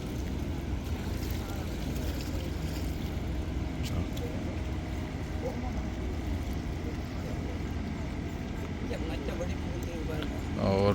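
Constant low rumble of a boat engine running steadily throughout, fairly close, at Nayaru, Sri Lanka, with a voice speaking over it.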